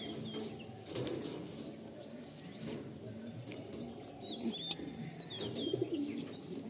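Pigeons released from a loft in Garia, with soft cooing and bursts of wing flapping amid a busy outdoor background and scattered chirps, moderately near and steady throughout.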